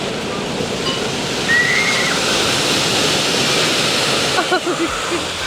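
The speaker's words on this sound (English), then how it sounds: "that water bucket's gonna pour on down" Large bucket at an outdoor water park dumps water down in a loud, continuous rushing pour with splashing, heard up close.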